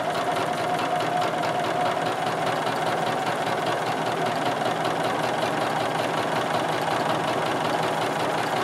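Sewing machine quilting straight along a grid line on a basketweave nine-patch quilt, a steady fast mechanical chatter of the needle running continuously at close range with no talking.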